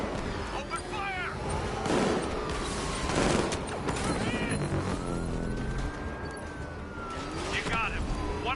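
Gunfire crackles in a Batman video game amid a wailing police siren, scattered bursts of shots over a constant sweeping siren tone, with voices talking across the action.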